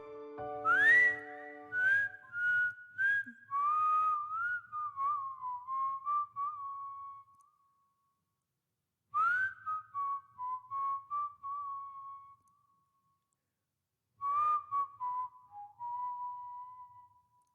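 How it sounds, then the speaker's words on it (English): A man whistles Bobby McFerrin's "Don't Worry, Be Happy" slowly alone in three phrases separated by pauses, clear and close, each phrase gliding between notes. "Instead of crying, the man whistled"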